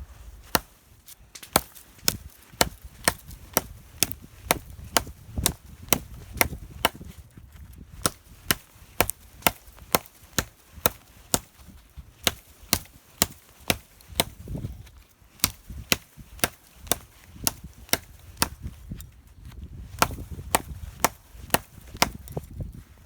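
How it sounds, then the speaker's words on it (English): An ESEE 6 HM knife chops into wood with sharp, close thwacks, about one a second, sometimes in quick pairs, over a low background rumble for the whole stretch. "So let's do a bit of test with that knife. So let's see how it does. A bit of chopping here."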